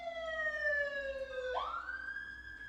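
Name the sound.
siren passing outside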